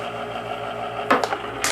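An Aircover electric knife sharpener runs with a quiet, steady motor hum, then a few short scraping bursts near the end.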